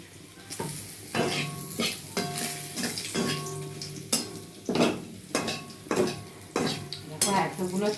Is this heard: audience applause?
no